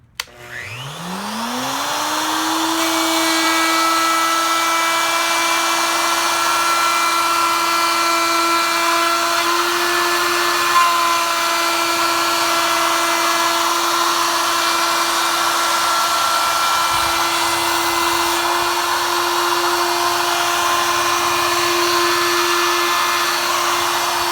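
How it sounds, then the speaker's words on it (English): A woodworking router set in a dado jig spins up from a start into a loud, steady high-pitched whine that holds for over twenty seconds, close and continuous with no talking. "You place the router in the jig before you turn it on."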